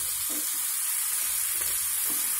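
Cumin and lentil tempering frying in hot oil, a dense continuous sizzle with soft stirring movements underneath, close and steady throughout, with no talking.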